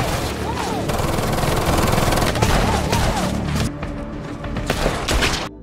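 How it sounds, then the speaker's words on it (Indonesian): Film firefight with rapid bursts of gunfire, overlapping shots and thuds in dense, chaotic volleys, loud and close, with a quieter stretch near the end. "anak buahnya untuk segera menangkap Jack, sampai baku tembak dan hantam pun terjadi di sana."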